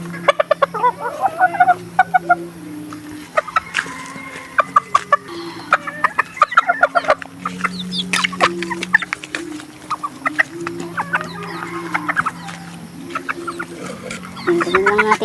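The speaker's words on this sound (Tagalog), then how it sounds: "Basta manok na pula." Red chickens, roosters and a hen clucking at morning or afternoon feeding time, close and busy, with repeated sharp clucks and pecking-like taps scattered throughout over a low background hum.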